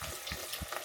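Chicken wings dusted of sauce drop into hot frying grease, giving a short burst of bubbling sizzle with a few soft low plops, close by and moderately loud.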